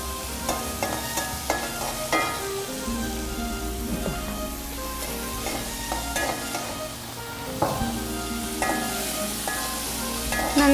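Chicken sautéing in a pan with a constant crackling sizzle and repeated spatula scrapes and stirring clatter, close up and continuous for around ten seconds with no talking.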